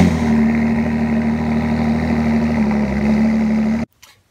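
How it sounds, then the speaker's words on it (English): Stock V6 exhaust on a Ford GT, a loud, steady idle with a deep low drone that holds for nearly four seconds and then cuts off abruptly into near silence. "here's the stock V6 exhaust on the Ford GT"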